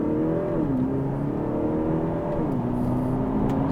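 A car launches hard from a standstill with the brake held. Its engine note climbs sharply, drops at a quick gear change, climbs again and shifts once more, heard close and alone.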